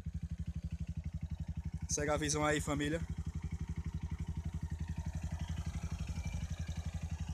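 A motorcycle with a newly bought aftermarket exhaust idles close by in a quiet remote spot, its steady rapid low-pitched thumping pulse running throughout while someone talks briefly over it.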